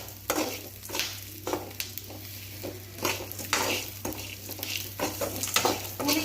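Tamarind sizzling in hot oil in a pan for pirandai chutney, with soft crackling frying and intermittent stirring scrapes of a spoon against the pan, close and moderately loud.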